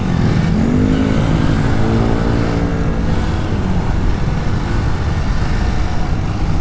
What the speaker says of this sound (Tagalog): Ay grabe naman, ang haba pala ng traffic.